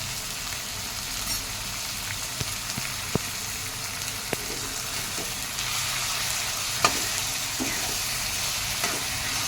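Tomatoes and turmeric sizzle and fry steadily in a pan for mixed sprouts usal, a continuous close crackle with occasional sharp spoon taps and stirring.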